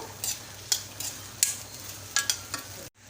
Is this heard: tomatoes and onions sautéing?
yes